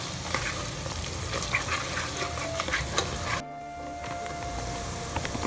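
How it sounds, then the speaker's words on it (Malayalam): Garlic, chili and ginger sizzle in hot oil with a loud, crackling hiss and busy stirring scrapes, then a sudden drop to a softer, steady fry for the last couple of seconds. "എണ്ണ ചൂടായി കഴിയുമ്പോഴത്തേക്ക് നമ്മൾ എടുത്ത് വച്ചേക്കുന്ന വെളുത്തുള്ളിയും മുളകും ഇഞ്ചിയും എല്ലാം ആഡ് ചെയ്ത് കൊടുക്കാതെ"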